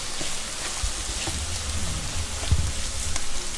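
Zucchini spaghetti fries in a pan over turned-up heat, giving a steady close crackling sizzle with a few louder pops, no talking over it.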